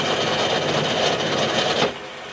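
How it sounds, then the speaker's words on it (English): Centre drilling a hole in a metal piston part on a lathe for a Gauge 1 live steam model, a steady close grinding, rasping cut that runs evenly and stops abruptly near the end, with no voices. "But we can start off by centre drilling,"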